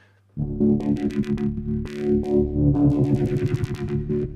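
A gritty, distorted FM synth bass plays a wobbling, pulsing line, its buzzy tone sweeping up and down with rhythmic bursts of harsh upper harmonics.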